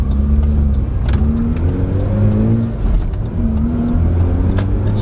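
A Mazda RX8 rotary engine accelerates onto a highway, close and loud from inside the car, revving up through gears with brief dips between shifts and a smooth rising drone.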